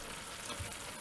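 An au jus sauce of beef roast drippings and wine sizzles steadily as it reduces in a pan, a dense, even frying hiss heard close up with no voices.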